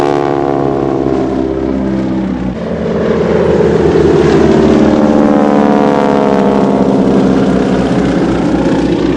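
Two wing-walker display biplanes fly in formation at an air show, their loud, sustained piston propeller drone holding steady with harmonic tones shifting in pitch as the aircraft manoeuvre overhead.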